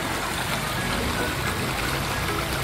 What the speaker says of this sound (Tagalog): Ganda ng ilog, oh.